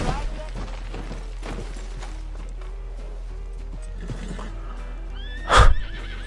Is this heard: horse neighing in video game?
yes